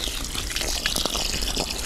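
A bucket of water gushes into a planting hole around a transplanted conifer in an autumn garden, a loud, close, continuous rushing pour lasting a couple of seconds.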